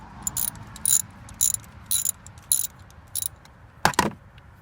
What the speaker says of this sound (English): Using a 10mm socket and ratchet with looks like maybe a 3-inch extension